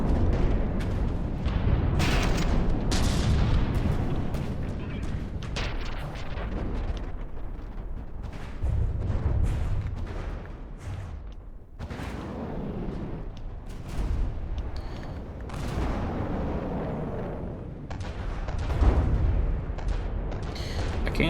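Cannon fire and explosions from a From the Depths naval battle give repeated heavy booms and rumbling blasts, loud and dense, overlapping almost continuously.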